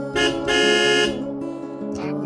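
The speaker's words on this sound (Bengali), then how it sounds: "তখনই দরজার বাহির থেকে গাড়ির হর্ন বেজে ওঠে।" A car horn blares in a few sustained honks of differing length, fairly loud and nearby.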